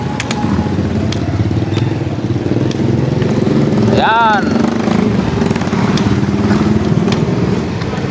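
A motorcycle runs close by on a city street, its engine a steady loud drone over traffic noise, with someone talking nearby.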